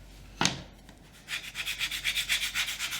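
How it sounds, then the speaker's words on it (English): A small hand scraper rasps old paint off a wooden sign in quick, even strokes, steady back-and-forth scraping close by after a single sharp knock. "scrape anything off that is hanging on"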